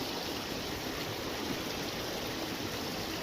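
Rainwater runs across farm fields after a downpour in the villages of Jhagadia, Bharuch, Gujarat, a steady broadband rush of flowing water that holds constant and close for the whole stretch, with no voices.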